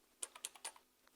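A computer keyboard clicks through a short burst of about seven irregular keystrokes, close and fairly quiet, with no speech over it.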